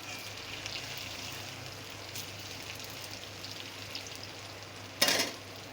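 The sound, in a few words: soybean and flour mixture frying in oil until reddish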